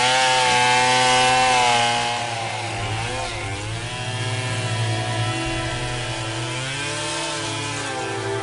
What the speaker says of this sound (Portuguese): mas com uma motosserra na mão